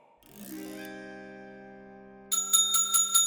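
A bell rings once with a long, ringing decay, then a rapid series of bright metallic rings follows, loud and close with no talk.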